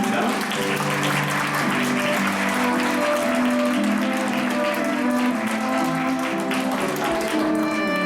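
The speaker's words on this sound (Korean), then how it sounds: "잘 어울리다 생각하신 분들 다시 한번 뜨거운 박수 부탁드리겠습니다" Wedding guests clapping at a ceremony in the Emerald Room of Lotte Hotel Jamsil, steady continuous applause under a loud music track throughout.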